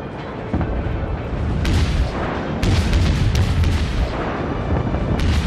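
Continuous heavy naval cannon fire in World of Warships, booming shots overlapping with rumbling explosions, loud and dense throughout.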